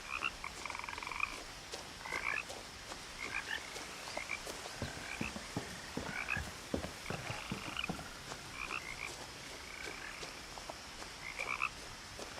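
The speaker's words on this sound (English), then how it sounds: "That is a lot of frogs" Many frogs croak in a dense chorus outside a house in the video game What Remains of Edith Finch, repeated pulsing calls overlapping steadily and moderately near, with no speech.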